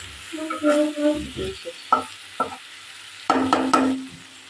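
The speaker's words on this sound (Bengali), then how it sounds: "এই যে এইভাবে রান্না করছি, ধনিয়া পাতা দিচ্ছি" Kechki fish cooking in a pan with coriander leaves added: soft sizzling under a few scraping, clinking stirs of a utensil against the pan, close and intermittent.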